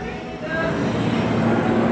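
A commuter train in Bekasi rumbles steadily nearby, a low continuous roar with a faint tonal hum, growing slightly louder after a moment.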